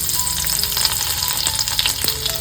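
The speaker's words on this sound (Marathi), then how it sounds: "तेल तापत ठेवलेले फोडणीसाठी लसूण घालून घेतोय" Garlic frying in hot oil for tempering a fish curry in a home kitchen, with a steady loud sizzle and crackle and a few stirring clinks.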